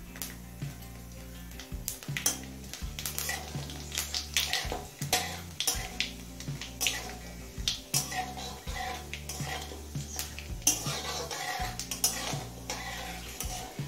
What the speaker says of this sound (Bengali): কালো জিরে শুকনো লঙ্কাটা 30 থেকে 40 সেকেন্ড ভেজে নিলাম